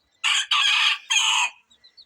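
A rooster crows close by, a loud three-part call with a short break, followed by a few faint clucks.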